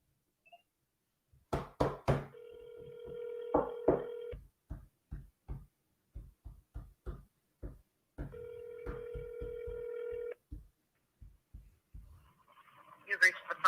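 An outgoing phone call rings twice with two long, steady electronic ring tones separated by a pause. Loud sharp knocks and clicks sound throughout, and a brief burst of noise comes at the end.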